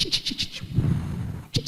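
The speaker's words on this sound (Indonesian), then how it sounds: "langsung terdengar suara gemerici air dan kicau burung" Birds chirp in short, bright repeated bursts over soft low rustling, a few quick calls at the start and another pair near the end, close and moderately loud.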